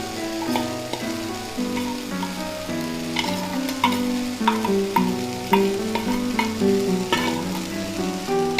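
Fresh grated coconut is stirred into a sizzling Kerala tomato curry, with a steady frying hiss and repeated scraping strokes of the spoon, under a faint tonal backing.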